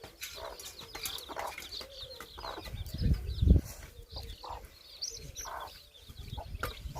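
Chickens cluck softly in a farmyard, a hen among them, with scattered short calls and light rustling, plus one brief louder thump near the middle.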